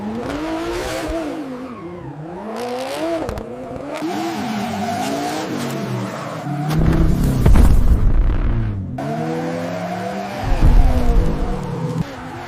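Toyota Supra drift car, its engine revving and rising in pitch through gear changes, with deep booming bursts and tire noise near and loud, swelling heavily twice.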